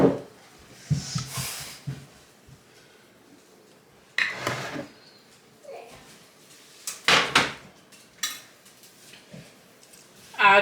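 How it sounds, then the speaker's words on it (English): A metal cookie sheet is pulled out in a home kitchen, with scattered clatters of pans and cutlery, drawer and cupboard knocks, and faint children's voices between the louder bangs. "do you want to get out the cookie sheet?"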